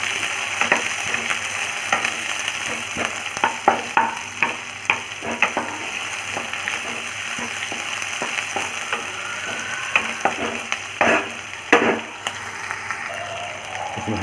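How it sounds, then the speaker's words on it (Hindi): Sliced onions frying in a pan for an Indian mushroom masala, a continuous close sizzle with repeated spatula scrapes and taps as they are stirred. "अब ऐड करते हैं ऑनियन, स्लाइस कटा हुआ ऑनियन। इसको थोड़ा हल्का फ्राई कर देंगे"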